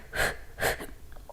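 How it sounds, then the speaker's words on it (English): Two forceful breaths pushed out through the mouth during a yoga stretch, each a close, airy whoosh about half a second long, followed by fainter breathing. "exhale through the mouth"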